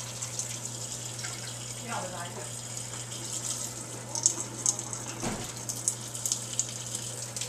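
Water pours and gushes out of a pot of boiled potatoes as they are drained, a continuous splashing stream over a low hum, with a few clinks and a voice speaking briefly.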